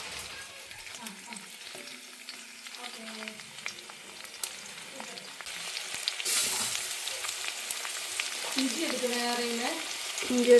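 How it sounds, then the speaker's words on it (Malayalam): Chopped onion, tomato and green chili sautéing in hot coconut oil for a beef curry make a soft frying sizzle, with stirring scrapes and clinks. The sizzle swells in the second half and ends with a sharper clatter. "അതിലേക്ക് അരിഞ്ഞു വെച്ചിരിക്കുന്ന ഉള്ളിയും തക്കാളിയും പച്ചമുളകും ഒക്കെ ഇട്ട് വഴറ്റിയെടുക്കാം"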